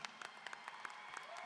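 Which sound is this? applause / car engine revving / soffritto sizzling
applause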